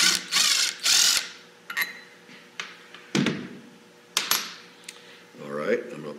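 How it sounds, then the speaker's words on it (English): A ratchet wrench works loose the last bolt on an automatic transmission pump, giving short bursts of clicking and metallic clatter separated by pauses, with a few thunks and parts being handled nearby. "I got one more bolt to pull off here, and this will be all opened up"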